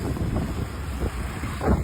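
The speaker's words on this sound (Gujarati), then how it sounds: "આજે ગાંધીનગરમાં થોડોક વરસાદ આવે છે, થોડોક પવન આવે છે અને થોડા ટીપાય પડે છે." Wind buffets the microphone outdoors in Gandhinagar on a rainy day, a low, rumbling gusty roar that swells slightly near the end of the brief moment.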